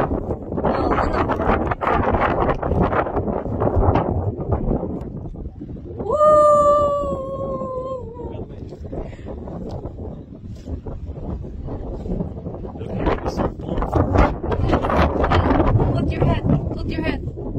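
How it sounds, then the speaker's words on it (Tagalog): Strong wind on a mountain top buffets the microphone in heavy gusts, rumbling and roaring, with a brief animal-like cry partway through. "Nandito na tayo sa tuktok ng bundok at sobrang hangin."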